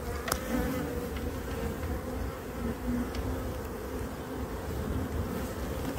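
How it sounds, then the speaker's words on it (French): Honeybees in an open hive during a spring inspection, a dense, steady, close buzzing hum filling the whole stretch without a break. "encore des abeilles naissantes"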